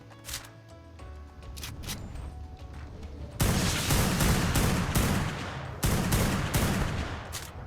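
Rapid gunfire in ARK Survival Evolved on the Ragnarok map, sustained bursts of repeated shots that get louder and denser partway through, with a brief break before another heavy volley; no talking.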